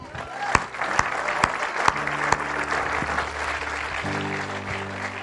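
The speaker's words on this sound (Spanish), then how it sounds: "Un aplauso al Señor." A church congregation at a Spanish-language service breaks into sustained applause, a dense wash of many hands clapping with a few louder claps standing out and some faint voices mixed in.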